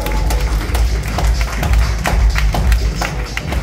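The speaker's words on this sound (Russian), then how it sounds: "Виталий Войтышин, ваши овации" Close, loud clapping from a small audience welcomes a guest at a blogger meetup in Haifa, Israel, with uneven individual hand claps and thumps running throughout.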